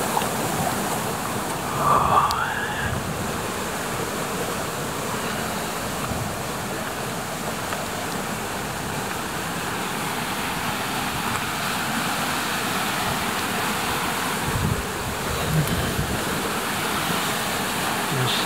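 Water flows steadily across a plot of land, a continuous broadband rushing wash heard close and unbroken with no talking.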